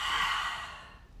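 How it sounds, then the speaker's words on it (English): A single slow exhale out through the mouth during a guided mindful breathing exercise, a close, soft airy whoosh that fades out over about a second. "Exhale out your mouth."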